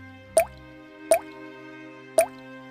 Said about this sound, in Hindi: छत से पानी टपकता था।